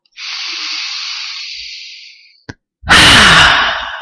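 A long, deep breath drawn in during yoga breathing, close and airy for about two seconds, followed by a brief click and a strong, forceful breath out.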